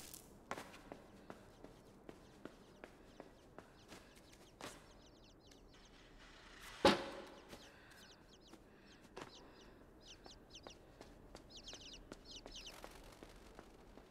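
Scattered bird chirps and chattering calls come from the game INSIDE, faint and somewhat distant, mixed with soft footsteps and small knocks and one sharp thud midway.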